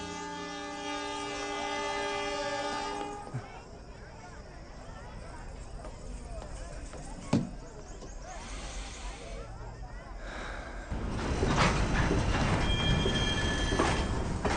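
A train moves along the rails with a horn sounding in a Hindi feature film scene. A long, steady tonal horn opens, then continuous rail rumble and wheel noise build up and grow louder toward the end, with people talking over it.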